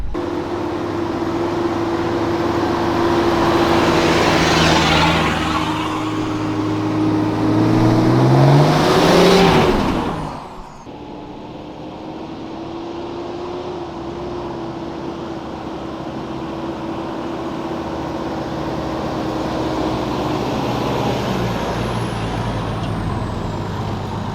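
A cheap $2000 off-road rig heads onto a trail in the Glasshouse Mountains, its engine revving loudly up close, climbing in pitch before easing off abruptly, then settling into a lower steady idle-like drone.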